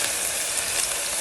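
Garlic and onions sizzling in a hot pan for coconut rice, a loud close continuous hiss and crackle, brief and steady with no talk.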